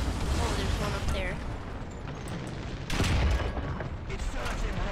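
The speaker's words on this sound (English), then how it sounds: "Another explosion." Explosions rumble through a War Thunder tank battle as dense, booming bursts, with a sharp loud blast about three seconds in, all over continuous rough battle noise without clear speech.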